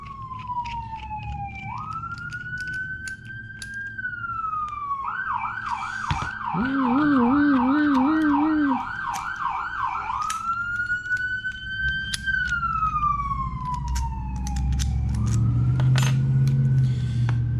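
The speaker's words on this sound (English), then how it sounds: "here comes our third obligatory siren of the day" A wailing siren sweeps up and down as a vehicle passes outside, shifting into a rapid yelp partway through, loud and steady over a low rumble of traffic.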